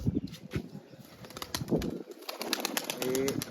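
Pigeons coo softly amid fluttering wing flaps and scattered rustling, close by, with a clear low coo toward the end.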